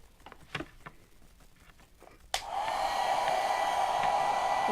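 A hair dryer switches on partway through to blow-dry a wiped surface, a loud steady whoosh with a strong hum; some quiet rustling and handling comes before it.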